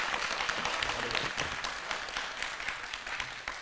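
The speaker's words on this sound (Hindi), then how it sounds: "एक बार जोरदार तालियां बजाएं" Audience applause for a poet at a Holi comedy show: a steady, dense wash of clapping that holds for several seconds with no voices over it.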